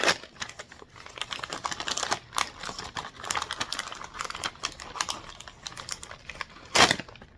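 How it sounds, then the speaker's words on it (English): Wrapping paper crinkles and tears as a package is unwrapped close by, a busy run of small rustles and crackles with a sharp rip near the end, no voices. "That's some good wrapping paper."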